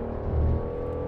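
A BMW M760Li's 6.6-litre V12 gives a brief, loud engine roar that swells slightly in the middle and then settles, on a racetrack.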